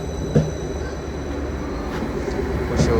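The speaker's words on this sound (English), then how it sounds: "Incoming now will be a terminating Greater Anglia service from Felixstowe" A Greater Anglia class 755 unit, 755-337, pulls into Ipswich station on a terminating service from Felixstowe, giving a steady rolling rumble with a few brief, sharp wheel squeals.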